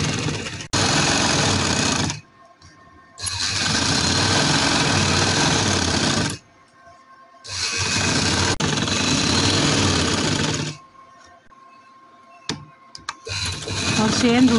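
A sewing machine stitches along the edge of a trouser in three long bursts of steady whirring, each a few seconds long, with short quiet pauses between them.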